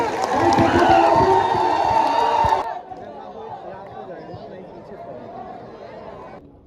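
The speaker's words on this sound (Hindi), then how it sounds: "जोरदार तालियों के साथ स्वागत कीजिए" A political rally crowd claps and cheers to welcome a party leader: loud, dense applause and shouting for almost three seconds, then dropping abruptly to a quieter murmur of chatter and scattered voices.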